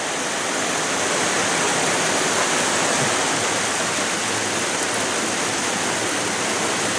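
Steady rain falls outdoors, a dense, even hiss that runs unbroken for the whole stretch with no voices over it.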